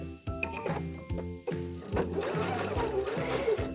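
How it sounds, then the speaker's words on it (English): A sewing machine runs a straight basting stitch through fabric without backstitching, its needle chattering in rapid, even bursts with short pauses between runs, close and fairly loud. "now we're just going to go ahead and create a straight stitch and make sure you do not back stitch"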